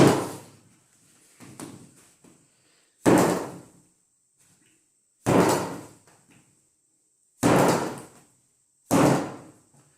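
Bread dough is slammed repeatedly onto a kitchen table so the yeast activates, as part of a Genoese home recipe. The close, heavy thumps start softer, then land as four loud, evenly spaced blows with brief silences between them.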